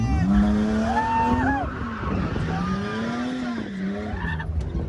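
A car drifts with tires squealing in long, wavering, loud skids that rise and fall over several seconds, with a faint voice in the background.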